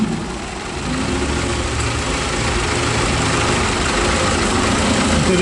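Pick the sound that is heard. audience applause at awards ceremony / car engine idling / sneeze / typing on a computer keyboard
car engine idling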